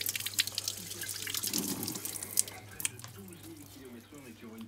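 Cleaned seat guide rails from a Fiat Panda 900ie are rinsed under a running tap, with splashing, drips and uneven water flow into a sink, while faint voice-like sounds emerge toward the end.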